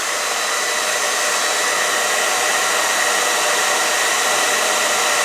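Hair dryer on high heat and high fan, drawing power from an Alpha ESS portable power station, roaring as a loud, steady broadband blast that holds without a break.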